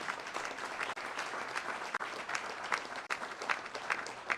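Steady applause from an audience at a mayor's press conference, a dense wash of clapping that holds for several seconds with brief dips, no voices on top.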